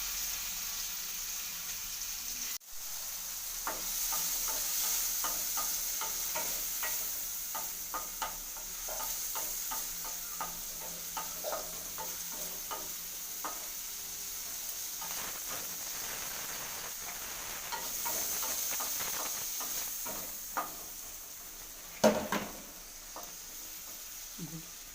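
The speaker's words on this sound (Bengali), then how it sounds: "চিংড়ি মাছগুলো ভাজা হয়ে গেছে, আমি তুলে রাখছি।" Prawns coated in turmeric and salt fry in white oil in a wok, a steady soft sizzle running throughout with scattered light stirring taps and one sharp knock, no voices heard.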